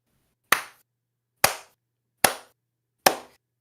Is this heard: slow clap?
yes